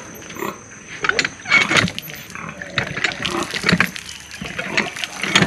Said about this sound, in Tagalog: May ano rin, may bomba rin pala dito.